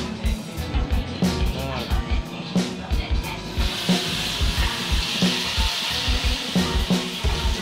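Flatbread frying in oil in a pan, a steady sizzle and hiss that grows brighter partway through, with clattering utensil and pan knocks in the foreground.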